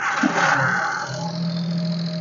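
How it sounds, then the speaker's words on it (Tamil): A 2006 Maruti Alto's engine idles quietly after a short burst of noise at the start, settling into a smooth, steady low hum with no talking. "காரோட இன்ஜின் சவுண்ட் எப்படி இருக்கு அப்படிங்கிறத பார்ப்போம்"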